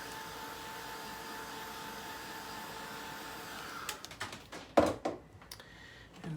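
Dryer blowing steady air over a chalk board for a few seconds, a continuous whooshing hum that cuts off and gives way to scattered handling knocks and clatter nearby.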